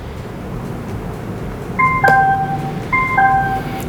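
A pair of short descending electronic chimes from a portable Bluetooth speaker pairing, repeated twice over a low background hum.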